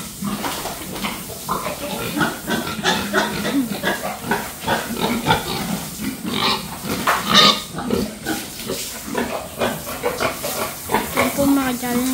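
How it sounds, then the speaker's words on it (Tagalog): Pigs on a Philippine hog farm grunting and oinking continuously and fairly loud, with overlapping snorts and squeals from several animals close by, and a voice at times mixed in. "Albert, ano ginagawa mo sa mga baboy? Nagsasalita? ano sabi ng mga baboy, Kuya Albert?"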